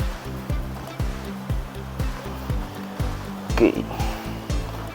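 An automatic washing machine with weak water inflow churns and sloshes water in steady rhythmic surges, close by, with a brief spoken word partway through.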